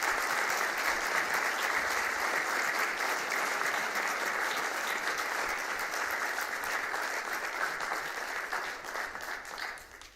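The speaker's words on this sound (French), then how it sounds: "Je vous demande de l'applaudir" Sustained applause from an audience at a Moroccan event, dense steady clapping with no voices over it, holding for about ten seconds before tapering off at the end.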